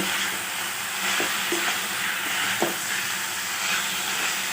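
Steady frying sizzle fills the background while a utensil scrapes and stirs spices in a pan a few times, with soft clinks.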